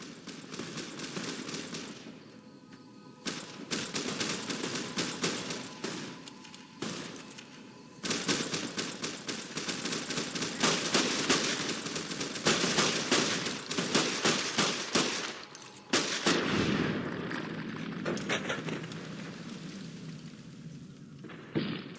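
Gunfire in Fallout: New Vegas during a clash with an NCR patrol, a loud, long run of rapid shots and bursts with brief pauses, heavy and close throughout.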